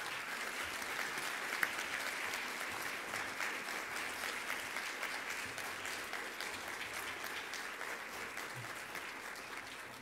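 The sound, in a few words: applause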